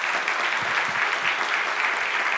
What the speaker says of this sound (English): Let's give another round of applause for Representative Inman.